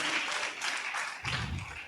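A church congregation at an evening prayer service claps hands together, a dense continuous wash of clapping at moderate distance that swells with a low rumble near the end.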